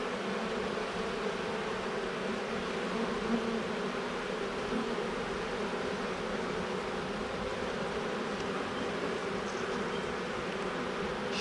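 Carniolan honey bees buzz steadily inside an open hive while the queen is being checked for laying, a dense continuous drone that stays close and unchanging throughout, with no voices.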